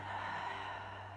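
A slow, deep inhalation during a Pilates chest-opening stretch, a soft steady breathy rush heard close and alone over a low constant hum.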